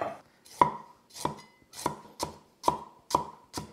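A knife slices through ginger on a cutting board in about seven crisp, evenly spaced chops, close and distinct, with no speech.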